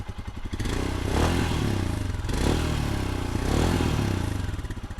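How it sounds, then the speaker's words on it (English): A 2021 Royal Enfield Himalayan motorcycle's exhaust revving at a standstill, a deep thumping single-cylinder idle rising into three swelling throttle blips and falling back, loud and close with no talk. "And there's that exhaust. Let's give it a little bit."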